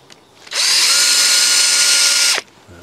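A power screwdriver drives screws while fixing a shelf inside a garden poly tunnel, giving one steady, loud high-pitched whir of just under two seconds that starts and stops abruptly.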